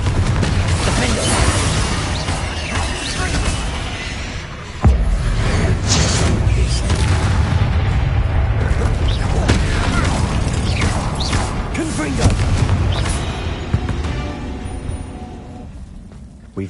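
Bombarda and Confringo spell explosions in the Hogwarts Legacy video game, a chaotic run of heavy booms, crashes and shattering bursts layered over constant combat noise, with a big impact landing midway.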